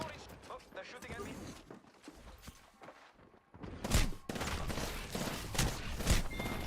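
Video game gunfire erupts in quick bursts and rattling volleys, sparse at first then louder and denser in the second half, with faint mechanical clicks and a voice speaking in places.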